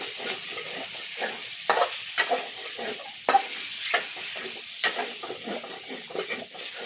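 Meat sautéing in oil in a pan, a close, steady sizzle broken by sharp scraping clicks of a utensil against the pan, with no voices.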